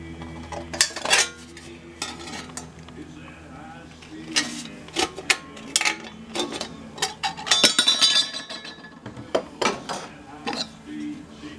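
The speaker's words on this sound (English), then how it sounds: "Now I love these snips. They're Malco M12s. These things are really old, but they cut metal like butter." Old Malco M12 metal snips cut through thin sheet metal for a cigar box guitar pocket protector, giving a run of sharp, clicking snips and metallic clinks in bursts, close and fairly loud, with no talk.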